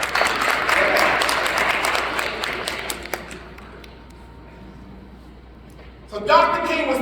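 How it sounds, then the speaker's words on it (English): A crowd gives a round of applause for a young woman in the audience, a dense burst of many hands clapping that fades out after about three seconds into near quiet before a voice begins speaking near the end. "Give her a round of applause."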